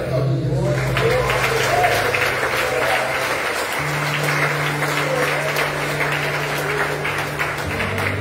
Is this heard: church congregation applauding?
yes